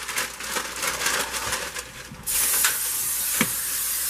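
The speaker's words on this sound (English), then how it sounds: "you want to just spray your sheet." A steady hiss of cooking spray from a can onto a baking sheet, continuous and close, growing louder and brighter partway through as the spraying intensifies.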